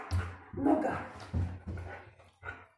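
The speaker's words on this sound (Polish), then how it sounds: "Dobry pies. Super. Zostań, Kairos" A German shepherd dog gives about five short, yippy barks and whimpers during home training indoors, spaced unevenly and heard up close.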